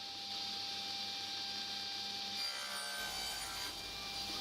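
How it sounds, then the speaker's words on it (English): Small walnut and maple pieces for a jewelry box being mitered, a steady close rasping saw-like hum of cutting wood with a whining tone, continuous and evenly loud throughout. "Just mitering the ends of the box now"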